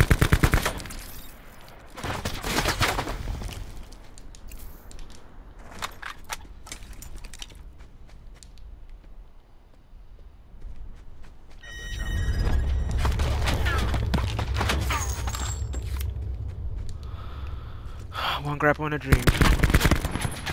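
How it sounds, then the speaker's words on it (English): Gunfire crackles through a battle-royale video game, with bursts of shots early on and then dense, sustained automatic fire from about twelve seconds to the end while players talk over it. "Another dude shooting at them? Yeah, there's a dude at the electrical building shooting at them."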